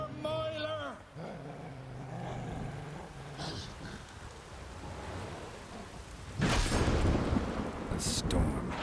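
Thunder rumbles in a stormy scene from The Witcher 3, with rain falling and a loud thunderclap building late in the clip; a voice speaks at the start.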